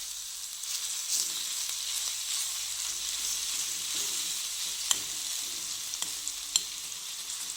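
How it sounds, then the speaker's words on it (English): Crushed garlic fries in hot oil in a kadhi with a steady, even hiss close by. A few faint clicks from stirring break through the sizzle near the end. "Add crushed garlic to the kadhi. Mix it and let it heat."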